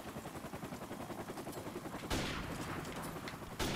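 Gunfire in Call of Duty Modern Warfare Remastered multiplayer: dense rattling automatic fire with several sharp louder shot bursts cutting through, continuous and close with no speech.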